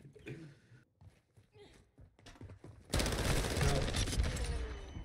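Rapid SMG gunfire from a video game erupts partway through, a loud sustained burst after quieter game sounds and some talk.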